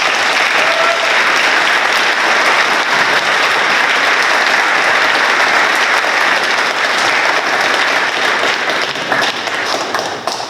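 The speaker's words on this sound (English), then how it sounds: "Can we give them another round of applause?" A large audience at a high school National Honor Society induction ceremony gives sustained, loud applause, dense and even clapping that fills the hall throughout and tapers slightly at the end.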